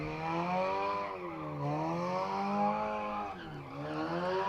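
A car doing repeated donuts and figure eights at a motorsport event, its engine droning steadily with long sustained tyre squeals that rise and fall in pitch as it slides, loud and continuous without talk.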